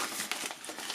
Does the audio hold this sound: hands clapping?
no